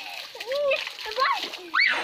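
Children play with water, splashing and pouring it close by while high kid voices call and squeal over the splashes.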